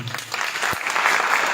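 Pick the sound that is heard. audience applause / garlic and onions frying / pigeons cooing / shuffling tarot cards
audience applause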